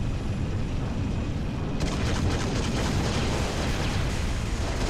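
Turrets fire and explode in Halo Reach on PC, making a dense, continuous roar of booming blasts. The noise grows rougher and more crackling partway through, with no talking.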